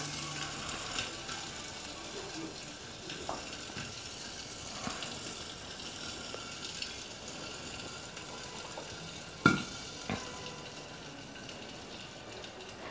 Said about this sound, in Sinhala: කොච්චි ටික පිපිරෙන සද්දය අපට ඇහෙනවා.